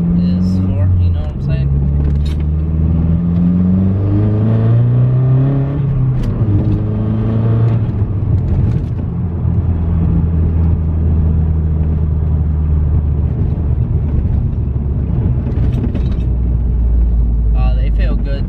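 A Mazdaspeed 3 drives on the road, its engine droning and rising through gear changes with low rumble and road noise throughout, loud and close from inside the cabin.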